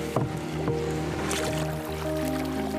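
Kayak paddles dip and splash along a river through the Dnipro floodplains near Zaporizhzhia, giving a steady wash of water with soft strokes over a continuous background hum.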